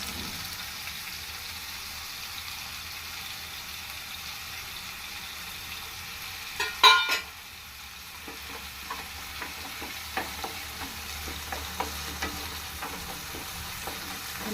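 Curry leaves, chopped onion and green chilli fry in a pan for a ridge gourd gravy curry, giving a steady sizzle with a sharp crackle burst near the middle and light scraping stirs afterward, close and without talk.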